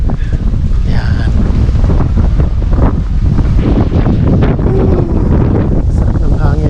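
Strong wind buffets the microphone outdoors on Jeju Island, a loud, constant gusting roar, with people talking faintly now and then underneath.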